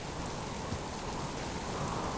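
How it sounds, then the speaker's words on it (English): Steady rain falls in the survival video game Subsistence, a dense even hiss of droplets with no pauses, close and moderately quiet, with no talking. "the raindrops are coming almost straight down"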